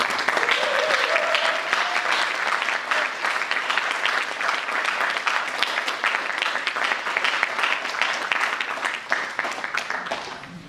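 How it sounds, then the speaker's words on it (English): Audience applause for a moderator at a dialogue event on Indigenous resistance, sustained full-room clapping holding steady for around ten seconds. "Please give her a round of applause for our moderator"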